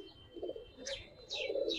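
Faint cooing from pigeons kept for sale, including Giribaj, Lal Gorra, Chila and Kaldom coloring breeds, with a few soft low coos and brief higher chirps over a quiet background.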